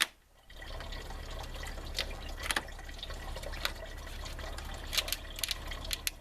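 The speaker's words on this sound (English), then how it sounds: "Alright, so now coolant is draining." Engine coolant draining out of a 2005 Nissan Sentra during an engine replacement, a steady faint trickle with scattered drips and splashes, close by and without talking.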